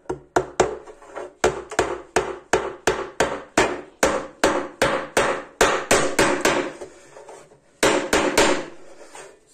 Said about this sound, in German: Und das nageln wir hier auf den Boden dann fest.